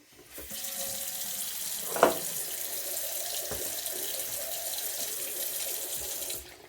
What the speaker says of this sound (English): we're going to start rinsing with cold water and then gradually go up to warm, as you do with cotton